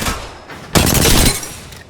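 Burst of automatic gunfire in Apex Legends, a loud sustained volley lasting about half a second after a quieter lead-in, then tailing off.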